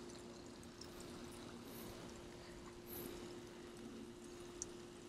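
Water spills steadily over the edge of an infinity pool at a contemporary Las Vegas home overlooking Lake Las Vegas, a faint, even trickle and wash holding the same low level throughout.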